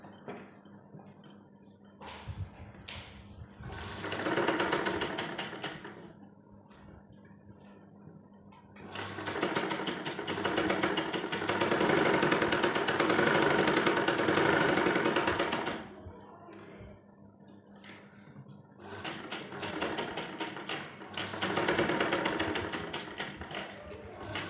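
A sewing machine stitching a size 38 kurti runs in several bursts, a steady fast mechanical whirr that swells and stops, with quiet handling pauses between the runs of stitching.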